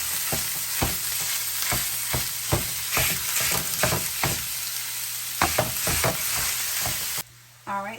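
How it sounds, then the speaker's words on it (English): Ground turkey sizzling in a hot pan, a steady fry crackling throughout with repeated sharp scrapes and knocks of a utensil stirring the meat, the sizzle briefly dropping away near the end. "next I'm going to go ahead and add my ground turkey to the pan"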